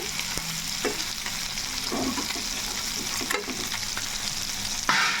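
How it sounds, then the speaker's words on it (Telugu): Fish pieces fry in a pan with a loud, steady sizzle that fills the whole stretch, broken by occasional stirring scrapes and a brief sharper burst near the end. "ఇప్పుడైతే బాగా వేగుతున్నాయి ముక్కలు"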